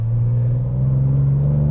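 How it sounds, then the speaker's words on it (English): Ford Ranger Raptor exhaust in Baja mode, a deep steady rumbling drone, loud and close, holding an even idle-like tone for the short stretch with no voices. "you can hear the exhaust sound. It's even louder now"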